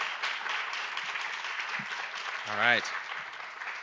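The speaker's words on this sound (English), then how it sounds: "if you could please give a big round of applause to Deepak Devagowda" Audience applause for a judge at a Three Minute Thesis competition welcome, a steady wash of clapping from a seated crowd; a voice briefly speaks over it near the end.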